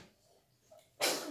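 A single sharp human sneeze bursts out close and loud after a second of quiet breathing and faint room noise.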